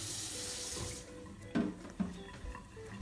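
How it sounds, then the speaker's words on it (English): Hot water runs steadily into a kitchen sink for about a second, then stops, followed by a few soft clunks and knocks nearby. "I do wash it down with some hot water"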